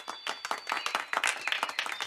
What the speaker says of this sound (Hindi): जोरदार तालियों की आवाज उस शाम और बहुत देर तक गूंजती